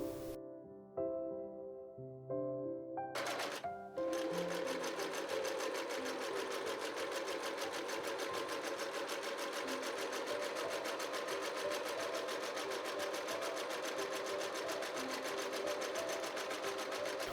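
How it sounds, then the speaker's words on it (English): Domestic sewing machine stitching darts in a 1940s-style skirt and blouse, a few short start-stop bursts followed by a long continuous run of fast, even stitching, close and steady, without speech. "I serged all my edges and then stitched the darts in my skirt and blouse pieces."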